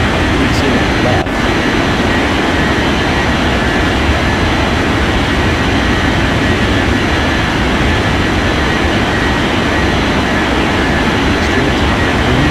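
Airliner taking off in Unmatched Air Traffic Control: a loud, continuous broadband jet-engine roar that stays steady and close for the whole stretch.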